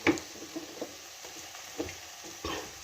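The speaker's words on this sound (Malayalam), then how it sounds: "നമുക്ക് നമ്മുടെ മസാല ഐറ്റംസൊക്കെ ഇട്ട് കൊടുക്കാൻ" Masala spices go into a frying pan for a Kerala-style prawn curry, giving a soft sizzle with a few quiet stirring scrapes and taps over a short stretch, fairly faint and close by.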